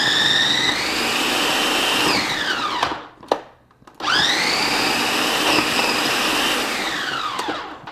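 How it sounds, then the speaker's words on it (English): A food processor grates a block of cheese with a loud, steady high whir that dips and stops briefly midway, then spins back up and runs on close to the microphone. "If you're using a food processor like I am today, careful with the blades."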